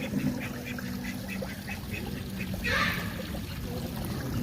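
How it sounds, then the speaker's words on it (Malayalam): Ducks and ducklings at an eco park pond, with a series of nasal quacks repeating at a quick rhythm over a steady water background, followed by a louder burst of calling near the end. "താറാവിൻ്റെ കുഞ്ഞുങ്ങളൊക്കെ ഇഷ്ടംപോലെ ഇതിൽ കിടക്കുന്നുണ്ട്"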